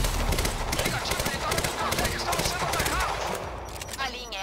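Sustained gunfire in the video game Quantum Break, a dense rapid fusillade of shots with a voice talking over it, loud and close throughout.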